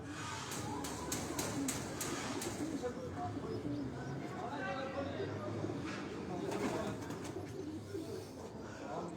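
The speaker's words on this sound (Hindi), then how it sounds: "ये उनके केजेस हैं, उसमें मुख्तलिफ़ किस्म के कबूतर" Caged pigeons at a Rawalpindi keeper's yard cooing softly in the background, low murmuring coos beneath someone talking, with faint sharp clicks and distant traffic.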